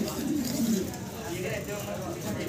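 A pair of large German Beauty Homer pigeons coo softly in low, repeated rolling notes, fairly close, while someone talks over them.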